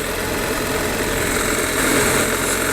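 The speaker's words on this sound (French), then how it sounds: "ça accélère sans aucun souci, sans bruit, sans claquement, sans cliquetis" A 1300 GS motorcycle engine accelerates, loud and close, a dense steady roar with no knocking or rattling and a slight swell in intensity toward the end.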